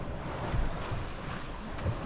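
A sailboat under sail at sea, with a steady rush of wind and water washing along the hull, continuous and close with buffeting wind noise on the microphone.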